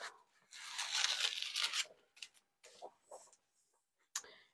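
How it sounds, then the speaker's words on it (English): Backing paper is peeled off a sticky fuzzing cloth for broom making, giving a close crackly tearing rip followed by several shorter, fainter peeling bursts and small rustles, with no talking. "So let me peel this off."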